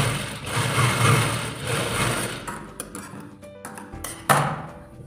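A sewing machine stitching a chudidar salwar hums in a steady, close whir for a couple of seconds, then slows and stops, leaving a few sharp mechanical clicks and a brief restart burst.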